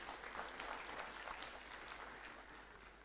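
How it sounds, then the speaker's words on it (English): Applause from the audience at a school annual day celebration, a faint, even patter of many hands clapping in a large hall that fades slightly toward the end. "A huge round of applause,"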